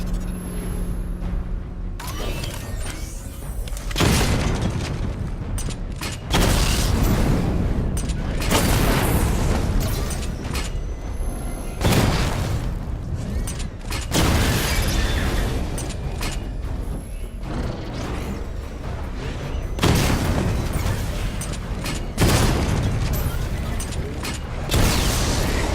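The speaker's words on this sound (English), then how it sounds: "Charge the missile barrage to level 2 to destroy up to 4 targets at once" Missile barrage explosions in Batman Arkham Knight boom again and again in heavy, loud bursts spaced a few seconds apart, with mechanical clanks between them and no talking.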